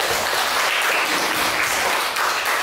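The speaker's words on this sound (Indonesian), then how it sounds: "Silakan beri tepuk tangan." Students in a classroom clap for a group after its presentation, a steady wash of applause that fills the short moment without any voices over it.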